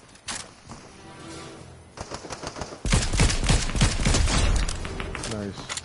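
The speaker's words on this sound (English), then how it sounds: "Who's shooting at me now?" Gunfire in a PS4 video game: scattered shots at first, then a dense, loud stretch of rapid bursts and overlapping shots, with a voice faintly underneath.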